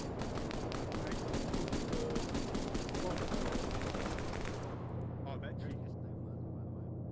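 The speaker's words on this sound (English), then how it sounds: "now you got Devil getting engaged by the heavy gunner up here" Heavy machine gunfire in a combined-arms military video game, dense rapid bursts of shots for about four and a half seconds before cutting off, with voices talking over it.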